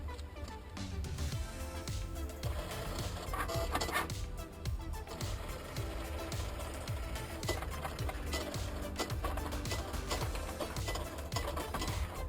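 A Cricut cutting machine slices permanent premium vinyl, giving a steady mechanical whir with soft rhythmic ticking and scraping, continuous and close, no talking.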